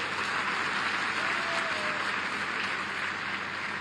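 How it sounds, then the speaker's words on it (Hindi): Crowd at a political rally for local election candidates in Beria claps together in a sustained, even burst of applause, heard at a distance and fairly soft, without any speech over it. "जोरदार एक बार ताली तो बजवा दीजिए।"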